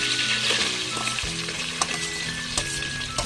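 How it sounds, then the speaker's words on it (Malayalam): Chopped onion sizzles steadily in a hot pan while being sautéed for a Malayalam-style pork curry, with a continuous loud frying hiss broken by occasional scraping stirs and a few sharp pops. "ഈ സവോള നമുക്ക് ഇതിലേക്ക് ചേർത്ത് കൊടുക്കാം."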